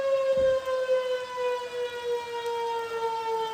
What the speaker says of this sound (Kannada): ಇದು ಏನು ಸೈರನ್ ಇದು ಈಗ ಡ್ಯಾಮಿನವರು ಡ್ಯಾಮಿನವರು ನೀರು ಬಿಡುವಾಗ ಎಲ್ಲ ಎಲ್ಲರ್ಟ್ ಮಾಡುವುದು